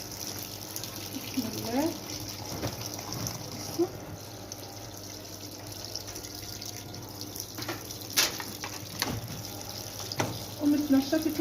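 Water runs into a washing machine drum as dirty clothes are loaded, a steady trickling and splashing with a few clunks and a brief spoken voice over it.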